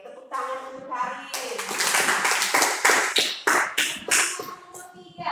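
Classmates clap for a student in a school classroom, a burst of scattered hand claps swelling after a brief pause, with children's voices mixed in near the start.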